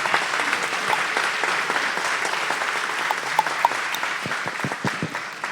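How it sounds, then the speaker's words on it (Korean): A church congregation at a retreat service claps to welcome a pastor to the pulpit, a sustained, even wave of many hands clapping with a few sharper close claps near the end. "박수로 맞이해 주시기 바랍니다"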